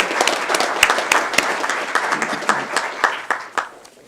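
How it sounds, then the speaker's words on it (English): Modest round of applause at a Board of Education business meeting, a small room of people clapping with distinct individual claps that taper off toward the end. "Why don't we give them a round of applause for working together so nicely."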